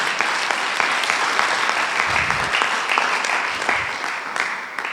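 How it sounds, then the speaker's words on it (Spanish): A church congregation applauds during a sermon, dense continuous clapping from many hands, loud and close, holding steady for several seconds. "Dale un aplauso al Señor Jesucristo."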